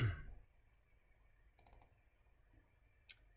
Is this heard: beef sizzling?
no